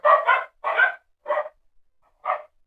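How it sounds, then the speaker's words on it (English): Small dogs barking nearby, four bursts of sharp yappy barks, a quick double bark, then a second, a third and a final one after a short pause, with quiet gaps between. "My dogs are really tough, yeah. They are so small, but they make a lot of noise."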